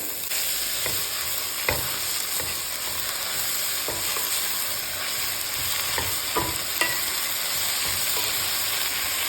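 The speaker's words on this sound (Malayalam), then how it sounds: "നമ്മൾ നന്നായിട്ടത് മിക്സ് ചെയ്ത് യോജിപ്പിച്ചിട്ടുണ്ട്" Chopped chaya mansa greens are stirred in a hot frying pan, a steady close sizzle and steamy hiss with repeated spatula scrapes and knocks spread through, no talking.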